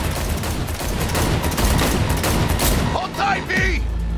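Rapid bursts of automatic gunfire rattle loudly during a car chase in the video game Cyberpunk 2077, dense and continuous before thinning out, with a voice shouting briefly near the end.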